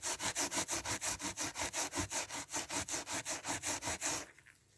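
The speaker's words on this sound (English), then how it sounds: "Just cleaning the centre out with a bit of Scotch-Brite." Steady back-and-forth scrubbing of a part from a Seagull 40 outboard motor with a Scotch-Brite abrasive pad, as the centre is cleaned: roughly twenty quick, even strokes, close and fairly loud, stopping just before the end.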